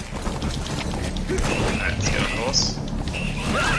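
Rhythmic hoofbeats of a galloping horse with an occasional whinny in Metal Gear Solid V: The Phantom Pain, mixed with game sound effects and a voice talking over it.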